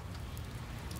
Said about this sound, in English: Unfortunately for Billy, he picked one of the 365 days of the year that it rains somewhere in Scotland